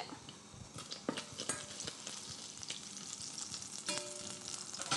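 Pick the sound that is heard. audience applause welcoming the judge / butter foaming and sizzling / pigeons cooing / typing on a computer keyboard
butter foaming and sizzling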